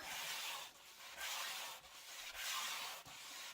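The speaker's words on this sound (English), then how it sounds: "If you're doing this on a painted surface, you still want to scuff sand" Scuff sanding by hand across a painted, sealed furniture surface, steady raspy strokes in one direction with brief pauses between passes, close and fairly quiet.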